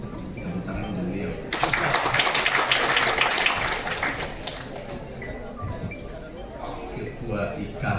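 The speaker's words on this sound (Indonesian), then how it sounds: "Tepuk tangan untuk beliau." Crowd applause breaks out for a guest, a DPD RI member, at an alumni gathering, a loud dense wash of clapping that swells partway in and then tapers under ongoing background murmur.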